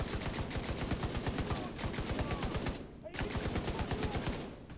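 Rapid rifle fire in The Division 2, long strings of evenly spaced automatic shots, loud and close, broken by a brief pause before resuming, with players talking over it.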